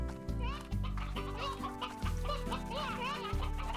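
Chickens in the video game Slime Rancher 2 cluck and chirp continuously over a busy layer of game sounds, fairly close and steady throughout.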